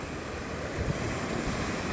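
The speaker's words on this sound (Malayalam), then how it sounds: "അതിശക്തമായ തിരമാലയും കാറ്റുമാണ്" Rough sea surf roars continuously with strong wind buffeting the microphone, a dense unbroken wash of crashing water.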